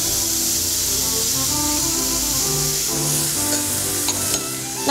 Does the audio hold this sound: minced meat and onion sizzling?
yes